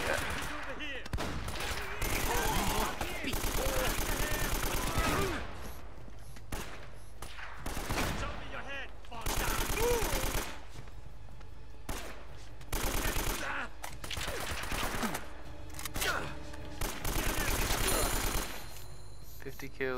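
AK rifle fire in Uncharted: Drake's Fortune comes in repeated loud automatic bursts separated by short gaps, close and sharp, with voices talking between the volleys.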